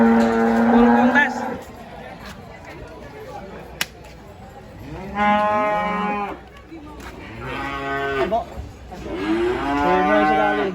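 Large contest cattle unloaded from a truck at a livestock show in Bojonegoro moo loudly and repeatedly in long, drawn-out calls, with crowd noise and people talking in the background.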